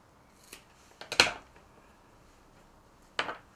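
A few quick, crisp snips of scissors cutting a clump of stoat tail hair used as wing material for a salmon fly, close and clear with short pauses between the cuts.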